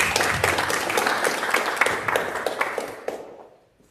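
Audience at a cultural day event applauding after a message, dense steady clapping for about three seconds that then thins out and fades to quiet.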